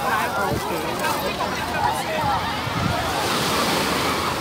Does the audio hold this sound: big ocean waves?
yes